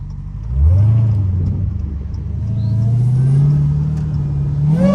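Straight-piped Hellcat rumbles loud and close, its exhaust droning low and shifting pitch as the engine revs rise and fall, with a few sharp pops near the end.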